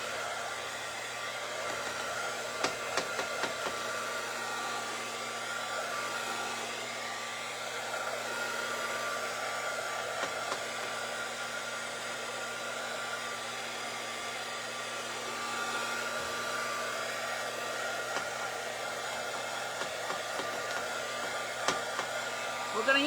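A hair dryer drones steadily at close range as it dries paint on crafted dark chocolate gingerbread figures, with a continuous even blowing hum and a few faint clicks and knocks.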